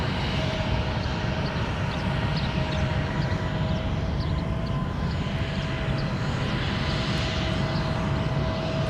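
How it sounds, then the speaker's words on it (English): Jet airliner inbound from Houston on approach to Minneapolis–St. Paul airport over South Minneapolis, a loud broadband engine roar that stays steady and close throughout, with no talk. "All right, there's our flight from Houston."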